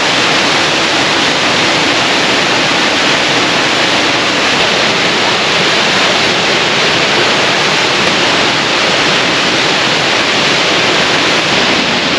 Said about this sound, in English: Another beautiful waterfall. You can see why they call it Double Falls.